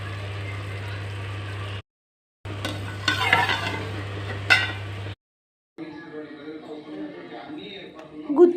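Stuffed bitter gourds are stirred in a spiced frying pan with scraping spoon strokes and a soft sizzle, broken by short pauses, while a voice talks over the cooking.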